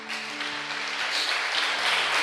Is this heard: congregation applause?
yes